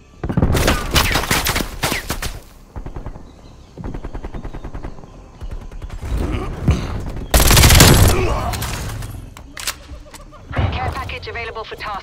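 Sentry turret gunfire in Call of Duty: Black Ops Cold War rattles out in loud, rapid automatic bursts with heavy booming shots, broken by short pauses, while in-game voices are heard in between.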